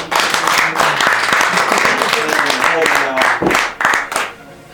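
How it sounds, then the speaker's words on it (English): A hip-hop event audience claps loudly and close, with sharp individual hand claps over a thick wash of applause and voices mixed in, fading out near the end. "Round of applause"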